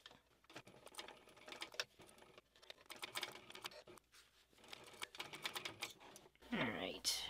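A sewing machine top stitches a bag panel at a long stitch length, running in rapid rattling bursts separated by short pauses, fairly quiet and close.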